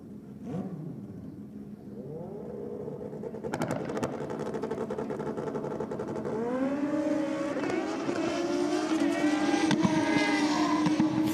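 A drag racing car launches and runs down the strip, engine noise building from a rough, crackling start into a rising, sustained roar that grows louder and higher toward the end, heard from trackside with faint crowd noise beneath.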